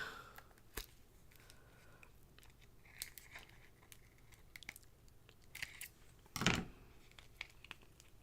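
Scissors snip through craft material during pearl and bling embellishing, a few faint, sparse cuts with one sharper snip near the end in a quiet room.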